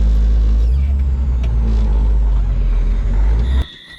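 An off-road truck's engine droning loudly up close with the throttle shifting slightly during tuning, a heavy steady rumble that cuts off abruptly near the end.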